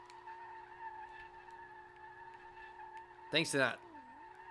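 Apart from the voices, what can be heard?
car drifting tire skid in video game SLRR, Nissan 240SX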